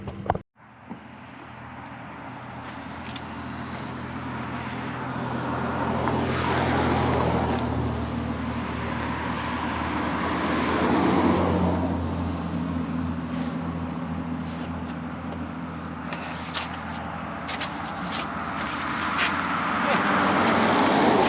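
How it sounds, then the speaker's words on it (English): Cars swoosh past one after another, rising and fading over a constant roar of wind and traffic, with someone talking briefly. "Cars going by."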